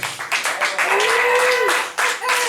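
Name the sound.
audience applause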